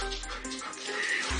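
A farm dog whimpers and yips excitedly in short, close bursts while greeting someone, with steady background noise throughout.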